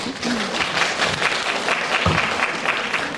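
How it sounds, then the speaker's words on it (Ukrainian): Audience applause at a trainers' presentation during a youth festival event, a steady dense clapping from a large crowd filling the whole moment, with no voices over it. "Під ваші оплески."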